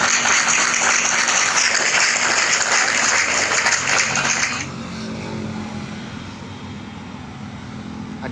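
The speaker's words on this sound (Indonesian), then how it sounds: "Kalau yang Tepuk tangan untuk Bunda Rika." Crowd applause for Bunda Rika, a dense steady clapping that stops abruptly after about four and a half seconds, leaving a lower background hum.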